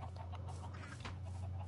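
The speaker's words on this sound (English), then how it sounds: "How many fucking chickens in there?" Chickens clucking softly in the video game Minecraft, a few faint clucks under a steady low hum and background noise.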